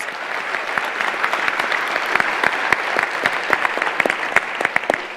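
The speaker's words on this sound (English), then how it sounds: "Another round of applause for our choir," Steady, dense applause from a graduation ceremony audience honoring a choir, sustained clapping with many sharp individual claps throughout, close and continuous without voices.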